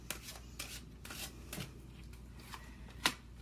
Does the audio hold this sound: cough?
no